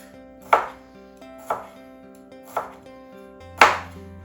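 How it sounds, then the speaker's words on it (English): Pickles being chopped for a Maurice salad: four separate, crisp knife strikes on a cutting board, spaced about a second apart, close and clear with no talking. "I'm just gonna give them a little chop so that they're kind of the same size as the olive"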